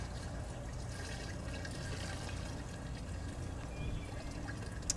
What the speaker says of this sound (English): here's 3 gallons of waste veggie oil. I'm gonna dump this right in.